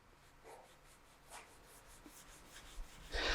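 Soft intermittent rubbing strokes of fine sandpaper on a nitro lacquer finish of a custom Flying V guitar, worked over a hard interface pad, faint and close, ending in a louder brushing swipe.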